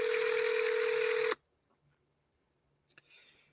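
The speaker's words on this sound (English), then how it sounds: "I'm trying to ring Felicia back" A telephone tone sounds steadily for over a second while calling someone back after a lost connection, then cuts off abruptly, leaving near silence with a few faint clicks.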